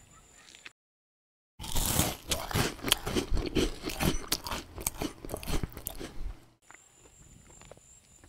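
Someone bites into a soft Lebanese yellow fig and chews it close up, giving a burst of wet, crunchy chewing sounds after a brief silence, with no talking.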